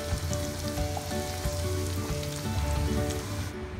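Paneer cubes fry in hot oil with a continuous, crackling sizzle, dense and close, with no talking over it.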